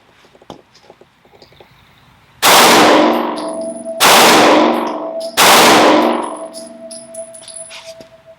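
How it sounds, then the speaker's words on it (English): Three loud, sharp gunshots from a 9mm subcompact pistol (Springfield Hellcat) at a shooting range, spaced over several seconds, each with a ringing metallic decay and quiet background between. "Let me try to shoot that again."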